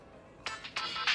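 A cartoon telephone rings in short electronic bursts, three quick trills rising in loudness, heard alone against a quiet background.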